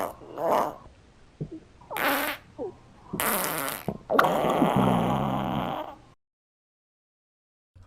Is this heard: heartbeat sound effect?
no